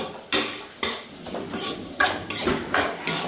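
Onions being stirred with a pinch of salt in a pot for a one-pot chicken stew, with a spoon repeatedly scraping and knocking against the metal. The clatters come close and fairly loud in an uneven rhythm, with no talk.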